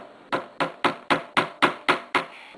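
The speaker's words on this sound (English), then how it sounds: "Taking a nail and a hammer, make a hole in your bead." A hammer drives a nail into a hardened papier-mache bead resting on a block of wood or an old book. Eight sharp, evenly spaced taps sound close and clear, with no talking.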